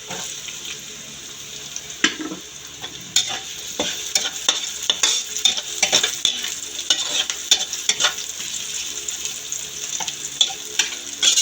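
Garlic and onion frying in a pan for a coconut-milk vegetable dish with tofu and shrimp, a steady close sizzle broken by repeated stirring scrapes and clatters throughout.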